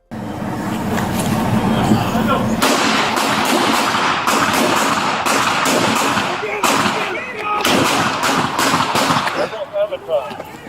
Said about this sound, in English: Fellow deputies braved the barrage of rounds to pull the wounded officers to safety, all while returning fire to keep Millsaps contained inside the house.